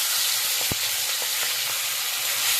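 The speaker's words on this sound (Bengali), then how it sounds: "এই মুড়োগুলো আমি ভালো করে ভেজে নেব" Fish heads fry in hot oil seasoned with cumin seeds, a steady dense sizzle with a single sharp clink partway through and faint stirring knocks, no talking.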